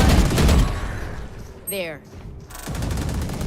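Rapid gunfire bursts in the Valorant shooter game crackle loudly at the start and again near the end. A short gap in the middle carries a brief spoken word and a quick electronic effect.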